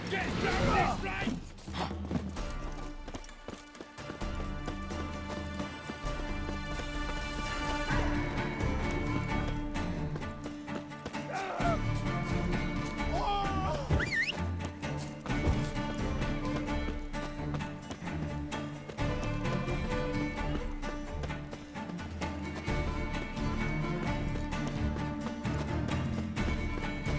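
Horse hooves clip-clop steadily at a gallop in The Witcher 3: Wild Hunt, continuous and close under a dense layer of music and creaking tack, with occasional whinnies.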